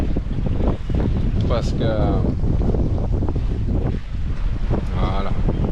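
Strong wind buffets the microphone aboard a Liberty sailboat in about 15 knots of breeze, a loud continuous roar with gusty surges and water rushing beneath, while someone speaks briefly over it.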